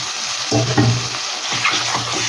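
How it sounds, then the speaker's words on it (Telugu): Mutton drops into hot oil with frying onions with a loud sizzle, then a steady frying hiss follows with scraping and stirring sounds close by. "ఉల్లిపాయ ముక్కలు వేగినాయి కదండి, మాంసం వేస్తున్నాను"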